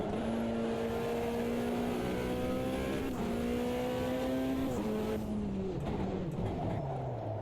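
A rallycross car's engine revs hard while the clutch is slipped half engaged, a loud, sustained strained drone whose pitch climbs and wavers, then drops away toward the end.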